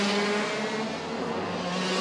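Racing karts at the South Garda Karting circuit during a WSK Champions Cup prefinal, a dense, high-pitched engine whine from several karts at speed, loud and continuous, with no talking.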